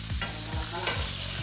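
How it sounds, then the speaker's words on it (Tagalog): Beef and pork cracklings sautéing in a pan, with a steady close sizzle and periodic scraping stir strokes, no voices. "Ginigisa pala."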